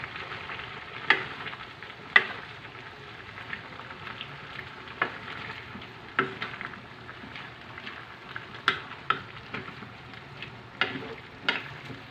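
Chop suey frying in a pan while being stirred at home, with a low steady sizzle broken by sharp scraping and clinking knocks of the utensil at irregular intervals, fairly quiet and close.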